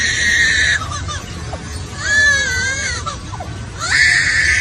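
A lyrebird mimics a crying infant, giving loud, close wailing bursts, with sobbing rises and falls in several separate phrases and short pauses between them.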